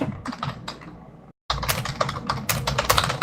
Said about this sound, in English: That's a nice keyboard sound.